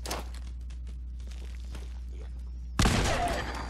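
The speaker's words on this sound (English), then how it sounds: "let us get ourselves a fragmentation grenade" A fragmentation grenade explodes in Fallout 4: after a quiet stretch with a low steady hum and light footsteps, a sudden loud burst erupts and then trails off into rumbling debris.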